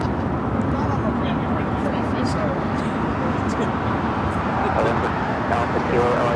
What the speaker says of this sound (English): This is American Airlines 2667 taking off to Los Cabos on the A321.